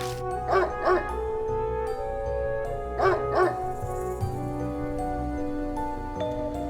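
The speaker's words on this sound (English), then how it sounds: "the dog was barking at someone behind him" A dog from the horror visual novel game Spirit Hunter: NG barks in two quick pairs of yips over a sustained tonal music bed, fairly loud and with no talk.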